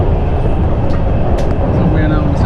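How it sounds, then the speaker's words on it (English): Inside Shanghai Hongqiao railway station, a continuous dense rumble of trains and station noise fills the space, with faint scattered voices and brief higher clanks mixed in. "So we are now at Shanghai Hongqiao Station."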